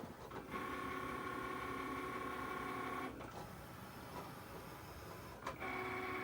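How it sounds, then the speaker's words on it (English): A Cricut cutting machine runs at normal speed with a steady mechanical whir, briefly stopping and restarting twice as the carriage changes direction, fairly quiet and heard alone. "I know it's relaxing to watch the Cricut cut, but come on, little machine"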